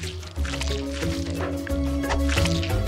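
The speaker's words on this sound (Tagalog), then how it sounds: "At ngayon ibuhos ito sa plato." A mixed liquid is poured from a bowl onto a plate in a kitchen, a soft wet dribbling and squishing that runs steadily, fairly quiet and close, with a low musical bed underneath.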